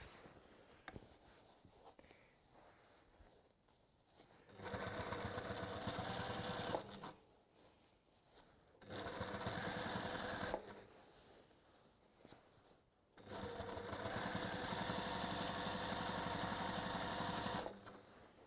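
A sewing machine stitching a bag lining runs in three sustained bursts of steady, buzzing stitching, separated by quiet pauses while the fabric is repositioned; close and moderately loud with no talking.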